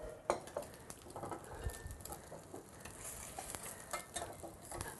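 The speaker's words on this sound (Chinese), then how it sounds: "这因为太久没去煎这个荷太阳蛋" An egg frying sunny-side-up in a pan gives a soft, steady sizzle and crackle, heard faintly with occasional light clinks of a utensil against the pan.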